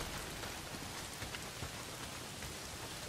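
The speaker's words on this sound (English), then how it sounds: "Well, not if it's pissing down rain." Heavy steady rain pours down in the video game Days Gone, a dense continuous hiss with scattered drops and no voices.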